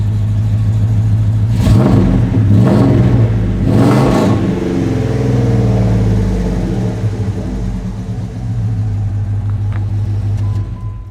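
Dodge 5.2 Magnum V8 breathing through long tube headers and a full exhaust, blipped several times in quick bursts before settling into a deep, throaty, steady idle rumble, loud and close with no talk.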